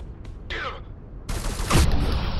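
Rapid enemy gunfire in the video game Ghostrunner, set in a factory complex, bursting in loud and sustained partway through after quieter sounds, with a sharp swelling blast near the end.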